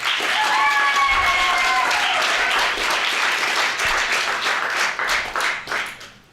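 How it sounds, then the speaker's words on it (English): Sustained audience applause fills a hall at a county poetry recitation final, steady dense clapping that fades out toward the end, with a brief voice over it early on. "let's give a round of applause to what we've already heard so far"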